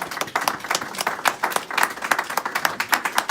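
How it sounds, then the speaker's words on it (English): An audience at a Chicago book launch event applauds, dense steady clapping from many hands throughout, moderately near and sustained, with no clear voices on top. "let's do a round of applause for all the sponsors tonight"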